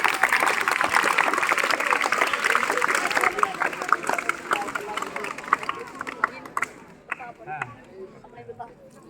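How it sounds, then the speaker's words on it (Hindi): School students clap together in a room, a loud burst of crowd applause that gradually thins into scattered claps and fades, with voices murmuring underneath. "बहुत अच्छी बात है, तालियां बजा लो भाई"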